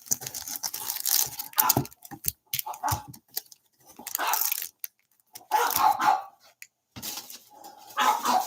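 A dog barks in repeated bursts in the background, with loud irregular barks and short pauses between them, alone with no talking.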